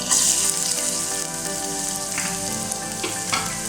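Ginger and garlic hit hot oil in a pan for a mutton liver fry, giving a loud, steady, close sizzle that hisses continuously with small crackles throughout, and no one speaks.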